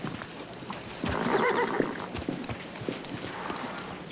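A horse whinnies loudly near the middle, with hooves clopping faintly through the rest of the moment.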